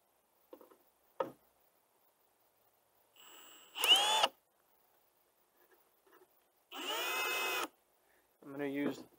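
A power drill drives a screw into a pre-drilled hole in a wooden bluebird house, heard as a few short, separate whirring bursts with quiet gaps between them.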